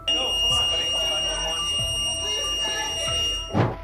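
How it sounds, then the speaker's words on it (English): A courtroom alarm sounds as a steady electronic tone under a tense, noisy scene, with voices and scattered thuds and movement around it. "As alarms went off in the courtroom,"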